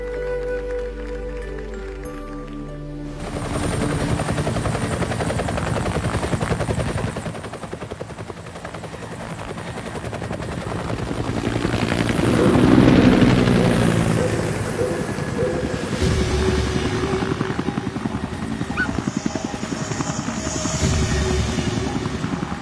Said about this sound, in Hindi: गांव में बस मुश्किल से आता है, हेलीकॉप्टर कहाँ से आता है?